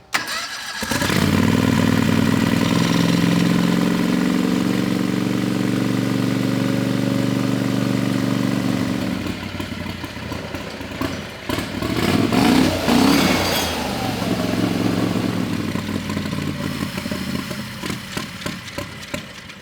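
Turbocharged 670cc V-twin running on methanol fires up and runs loud and close, a steady droning idle that breaks into rougher, choppy revving bursts in the second half.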